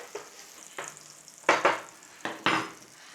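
Coriander and fennel seeds hit hot oil in a pan for a chicken balti, crackling in a series of sharp sizzling bursts, some paired, that flare and quickly die away between quieter moments.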